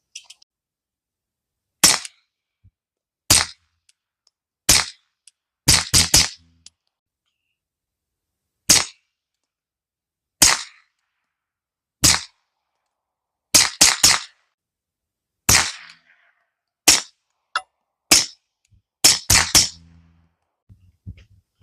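Suppressed handgun shots through a SilencerCo Omega 36M suppressor, 9mm FMJ ammunition at an outdoor range: about seventeen sharp, muffled cracks, fired singly and in quick pairs with gaps between, loud and close, no talking.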